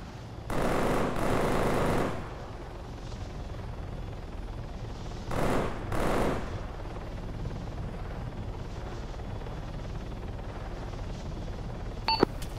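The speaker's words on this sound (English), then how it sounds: "They're shooting at me." Gunfire rattles in a military video game. Two loud bursts of rapid shots, the first lasting over a second and the second shorter, stand out over a low, constant rumble, then a faint sharp crack comes near the end.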